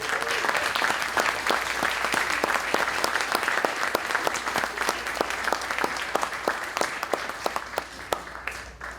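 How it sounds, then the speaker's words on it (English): A presentation audience claps in sustained, even applause that stays steady throughout and eases slightly near the end, with faint talk mixed underneath. "I think another round of applause is due."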